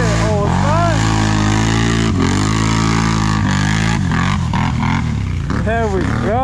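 A Renegade four-wheeler ATV engine revs hard and close, its pitch climbing and dropping through repeated throttle bursts, with shouting voices over the motor.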